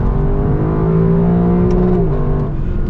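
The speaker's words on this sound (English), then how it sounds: "You can actually bounce off of the rev limiter with the LC 500." A Lexus LC 500 V8 engine revs hard up to the rev limiter, holding a loud, steady, high-pitched drone with harmonic wavering as it bounces off the limit, heard up close with no talking.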